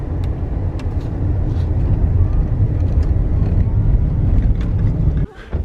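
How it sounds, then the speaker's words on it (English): A vehicle drives over sand on a desert track where the paved road has ended, with a steady low rumble of engine and tire noise close by throughout, dropping off briefly near the end. "Pavement is now officially ended. Now we're driving on sand."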